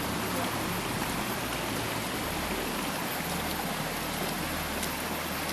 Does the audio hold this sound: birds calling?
no